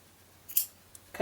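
Scissors snip cotton yarn during crocheting, one sharp close cut followed by a faint click and a brief rustle of handling.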